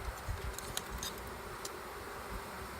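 A swarm of bees in a painted hive buzzes in a dense, steady drone, moderately close and unbroken, with a few faint clicks of frames being handled.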